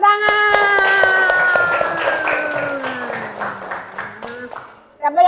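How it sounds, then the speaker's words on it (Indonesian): Classroom applause after a student group's presentation on leaf vein patterns, a steady patter of clapping hands running for several seconds with voices mixed in, then tapering off before a voice returns at the end. "Tepuk tangan"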